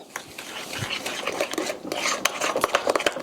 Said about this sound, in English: we're going to mix this up until it's nice and smooth